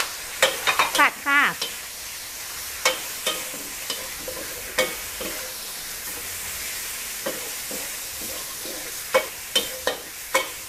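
Squid stir-fried with green peppercorns, torn kaffir lime leaves and basil in a spicy drunken-style dish sizzles under repeated sharp clanks and scrapes of a spatula against the pan, with a brief bubbling burst early on.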